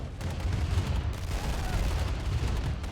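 Artillery units firing in Command & Conquer: Tiberian Dawn, giving dense overlapping booms and gunfire across a continuous battle din, loud and sustained with no clear gaps.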